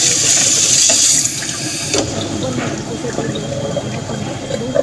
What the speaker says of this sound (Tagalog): Kailangan hugasan muna ito para hindi siya matambak.